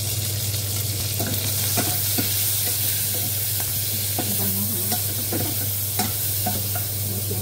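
Onion and garlic sautéing in rendered pork oil, giving a continuous close sizzle broken by repeated spatula scrapes and taps of stirring, with no one speaking.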